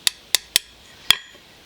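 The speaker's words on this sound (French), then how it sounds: "je vais venir travailler au marteau ici" Hand hammer striking a forged blacksmith's tong on a 28 mm octagon bar to fit the jaws: four sharp metallic clinks, three in quick succession then one more after a pause, close and alone.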